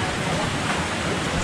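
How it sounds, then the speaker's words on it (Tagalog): A newly formed waterfall after heavy rain pours in a steady, broad rushing roar, dense and unbroken, filling the whole moment with loud close white noise. "Nagkaroon na ng falls dahil malakas ang ulan."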